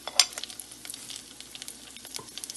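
Mustard seed, cumin seed and red chili sizzle in a pan while being sauteed for rasam, with close crackling pops and a light stir, one sharp pop near the start.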